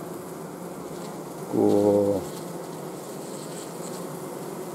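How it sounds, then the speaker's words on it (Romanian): A distressed honey bee colony hums with a steady close buzz. A louder, tonal wailing note rises over it for under a second midway through. "Acesta este plânsul albinuțile zgomotul care se aude, zumzetul albinuțile stau"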